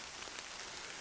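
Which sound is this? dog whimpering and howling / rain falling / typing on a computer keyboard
rain falling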